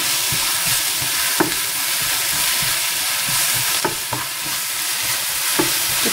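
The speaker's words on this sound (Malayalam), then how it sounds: "ഇനി ഇതിലേക്ക് കറിവേപ്പില ഇട്ട് നോക്കാം." Curry leaves frying with chopped okra in a hot pan, a loud, steady close sizzle with occasional scraping stirs of a spoon, no voices.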